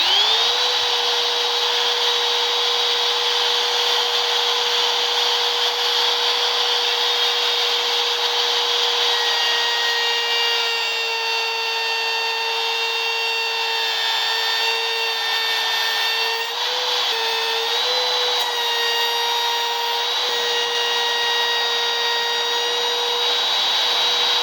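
A router trims a UHMW plastic insert for a table saw, giving a loud, close, continuous high whine. The pitch holds steady, with slight dips and a faint rubbing change in tone as the bit cuts.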